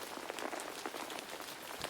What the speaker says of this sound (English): listened to the sound of the rain falling onto the material of his raincoat